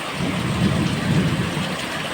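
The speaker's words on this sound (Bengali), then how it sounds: "দেখো বন্ধুরা কি পরিমাণ বৃষ্টি হচ্ছে, একটু দেখো।" Heavy rain pours down in Barasat, a steady, dense rush of falling water with a low rumbling roar underneath, continuous and fairly loud throughout.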